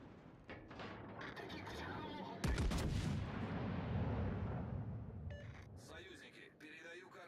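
Battleship guns fire in a naval video game, a heavy booming salvo with a long rolling rumble, followed by clattering game sounds, with someone talking over it.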